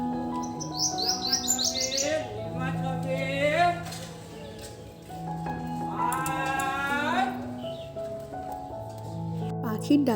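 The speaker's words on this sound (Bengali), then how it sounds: "পাখির ডাকের সাথে সাথে কিন্তু মাছলার ডাকটাও তোমরা শুনে নিলে।" Village morning birdsong: several birds chirp and trill in rising, repeated phrases, up close and clear, over a steady low hum with a voice speaking in the background.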